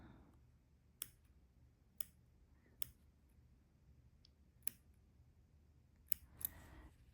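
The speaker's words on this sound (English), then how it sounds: "when I'm trimming, I like to use these curved embroidery scissors" Curved embroidery scissors snipping fabric while trimming a handmade sewn teddy bear: six or seven sharp, crisp clicks spaced about a second apart, close and clear over a quiet background, with a quick double snip near the end.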